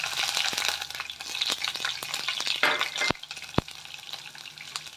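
Garlic frying in hot oil in a pan after mustard seeds and fenugreek, a continuous close sizzle with sharp clicks and taps of stirring, one louder crackle burst midway.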